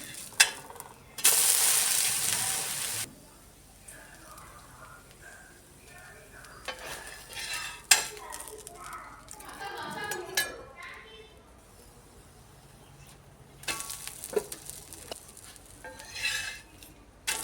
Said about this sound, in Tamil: இப்போ வந்து நம்ம சுற்றி நெய் வேணாலும் ஊற்றிக்கலாம் ஆயில் வேணாலும் ஊற்றிக்கலாம்